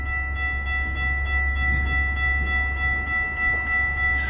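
A train approaches a railway crossing in Chicago: sustained steady tones ring over a constant low rumble, holding at an even level throughout with no talking.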